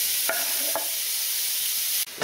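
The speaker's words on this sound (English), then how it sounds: "So once your pan is warm enough, add your chopped up chuck beef." Chopped chuck beef sizzles in olive oil in a warm pan, a loud, close, steady crackling hiss broken by a couple of short scraping stirs, with no talking.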